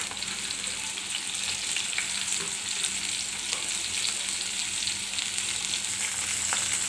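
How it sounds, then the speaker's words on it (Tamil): Capsicum, onion and carrot fry in hot oil for egg noodles, giving off a steady close sizzle with faint crackles throughout and no talk. "குடமிளகா, வெங்காயம், கேரட்டு எல்லாம் ஒன்றா சேர்த்துக்கலாம்."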